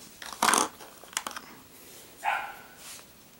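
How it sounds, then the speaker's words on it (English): Dog barking indoors, a few short muffled barks spaced irregularly, moderately near and not very loud. "Hold on one second, my dog's barking."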